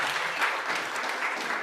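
Audience applause at a Games on Web 2023 award ceremony, a thick, steady wash of many hands clapping together, fairly close and sustained.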